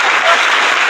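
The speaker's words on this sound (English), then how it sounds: "I need some claps for that." An audience claps together for a comic line during a cosplay show recording, a dense, steady burst of applause filling the short moment at full loudness with no speech over it.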